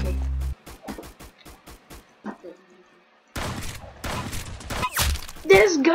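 Rapid gunfire bursts in the first-person shooter Roblox Arsenal, a string of sharp shots followed by a louder, denser stretch of firing with game effects, close and prominent.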